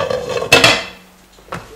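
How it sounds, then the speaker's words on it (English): Metal lid set onto a pot of boiling vada curry, a sharp double clank of metal on metal followed by a quieter single knock a second later, loud and close with no talking. "Cover it with a splatter lid or a normal lid."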